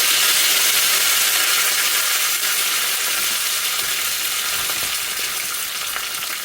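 Mustard seeds hitting very hot oil for a tempering, a loud dense crackling sizzle that stays close and steady throughout, easing slightly toward the end, with no talk.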